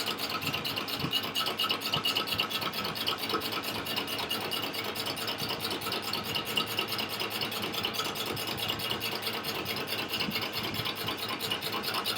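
Metal lathe facing a press plate at around 255 to 300 RPM, a steady close whirring machine drone with a fine rapid buzz running unbroken throughout, no voices.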